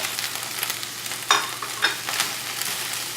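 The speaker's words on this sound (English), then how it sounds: "I'm going to stir that around and make sure everything is coated well. And now we're going to go ahead and add our greens." Kale greens sizzling in a hot pan as they are stirred and coated, with a steady crackle and a couple of brief scraping clinks, close and alone.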